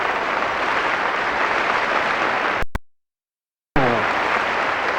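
Loud, dense applause from a large crowd that suddenly cuts to silence for about a second, then resumes just as strongly.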